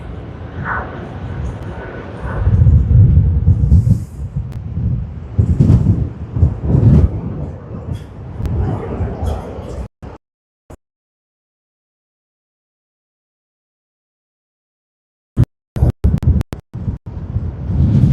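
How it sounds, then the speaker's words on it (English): Strong wind buffets the microphone in heavy gusts, with a voice talking through the roar, then near silence, then more sharp bursts of wind. "As you all can see, it's quite windy over here today."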